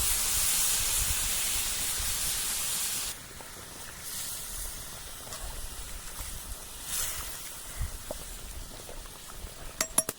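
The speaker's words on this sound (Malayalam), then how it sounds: "നമുക്ക് കുറച്ച് വെള്ളം ഒന്ന് ഒഴിച്ചു കൊടുക്കാം. നന്നായിട്ടൊന്ന് തിളപ്പിച്ച വെള്ളമാണ് ഒഴിക്കുന്നത്." Boiled water is poured into a hot pan of chicken cooking over a wood fire, giving a loud steady hiss of steam for about three seconds that then settles into a softer, uneven sizzle and bubbling, with no talking.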